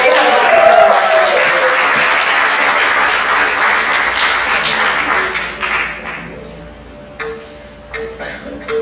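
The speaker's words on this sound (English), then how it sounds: "Give them a big round of applause" Audience applause at a classical dance debut recital, loud and sustained at first, then thinning out into a few scattered claps as it fades over the final seconds.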